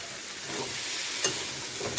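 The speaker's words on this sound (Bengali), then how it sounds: "দিয়ে এটাকে ভালো করে ফ্রাই করবেন" Raw jackfruit and small prawns fry in a pan over a low flame, giving a steady, even sizzle with a couple of soft scraping stirs.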